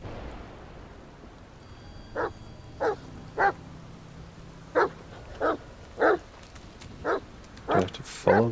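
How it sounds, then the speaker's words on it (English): A dog in the video game The Medium barks in a steady series of about a dozen short, sharp woofs, spaced at fairly even intervals over a quiet background. "The dog."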